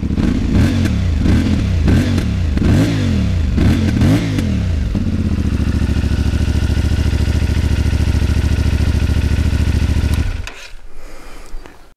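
A CFMOTO 450MT parallel-twin motorcycle engine fires up and blips through several quick revs, then settles into a steady, loud, even idle for several seconds before shutting off abruptly, with no one talking.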